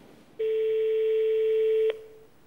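A telephone rings for an incoming call: one steady electronic ring tone lasting about a second and a half, clear and alone over a faint background hiss.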